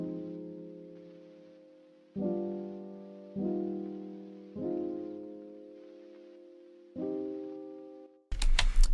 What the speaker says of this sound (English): one of my go-to pianos in Contact